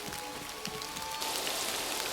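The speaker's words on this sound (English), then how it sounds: "So the rain sounds absolutely gorgeous, and it's kind of lulling me into a sleep." Steady rain falls on a surface in the survival building game Dawn of Defiance, a dense, even hiss that swells slightly louder partway through and continues alone without speech.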